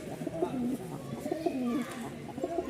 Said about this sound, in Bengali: আমার বাড়ির কবুতর এগুলো।